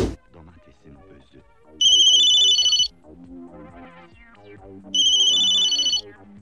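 A telephone rings twice in electronic bursts about a second long, loud and close, between stretches of background music.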